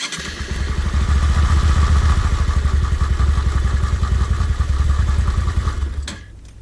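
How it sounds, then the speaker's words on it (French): A Honda Varadero motorcycle engine cranks on the starter and turns over with a steady, rapid chugging pulse for several seconds during an oil change, close and loud, then cuts off. "Mais il faut démarrer le moteur pour remplir le filtre à huile. Voilà, tu mets un petit coup de démarreur."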